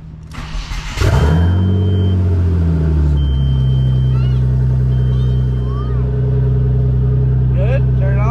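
A twin-turbo Audi engine fires up and holds a loud, steady, close rumbling idle with a deep throaty drone, following a brief burst of cranking and revving.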